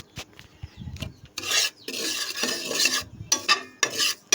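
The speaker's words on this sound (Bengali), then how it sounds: "কারণ এটা সুজি ভেজে নিচ্ছি লো হিটে, হাই হিটে না।" Semolina stirred in ghee over low heat for watermelon laddu, close rasping scrapes of a spoon across the pan in uneven bursts with short quiet gaps.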